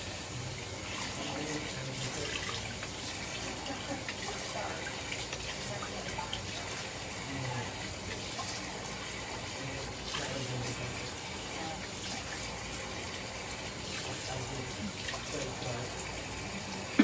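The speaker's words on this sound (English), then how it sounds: "All right, cold water." Tap water gushes steadily into a basin, a constant splashing rush that lasts the whole time with no pauses.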